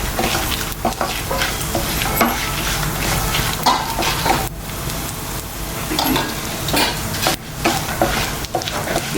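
Pepper, cumin and fennel sauté in a pan for veg salna, giving a constant loud sizzle and frying hiss broken by scraping stirs, heard close up with no talk.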